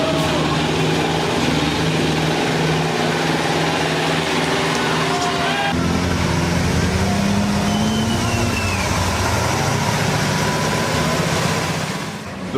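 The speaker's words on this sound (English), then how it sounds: "This Unimog is a multi-purpose vehicle from Mercedes-Benz, often used for military purposes and harsh off-road work." A Mercedes-Benz Unimog multi-purpose truck drives off-road, its engine a steady loud drone with shifting pitch throughout, briefly dipping in tone midway.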